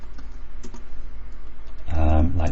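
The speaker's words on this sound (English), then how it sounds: "I'm pressing the wrong key on my keyboard." Keys clatter in quick irregular bursts on a computer keyboard during Java coding, close and moderate, with a voice speaking over the latter part.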